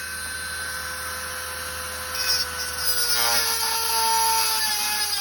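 A small metal rivet for a Dearborn 12-88 planter is cut down to size with a power tool, a steady whining hum that roughens into grinding contact noise partway through, close and continuous.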